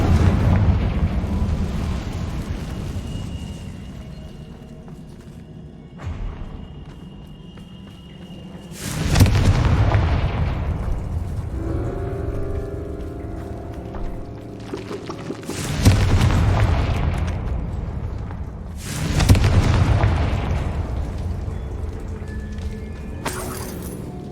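Confringo fire spells in the video game Hogwarts Legacy go off as several loud booming blasts, each sharp impact followed by a long rumbling decay, spread across the clip with quieter game ambience between.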